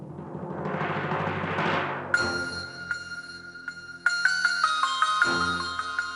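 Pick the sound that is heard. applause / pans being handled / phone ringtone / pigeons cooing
phone ringtone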